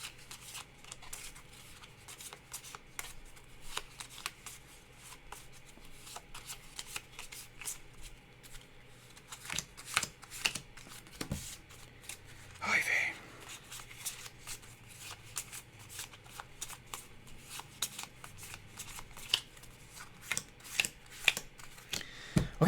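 Playing cards shuffled repeatedly during a solo tabletop card game, producing bursts of quick riffling and soft slaps, close and fairly quiet, with no talking.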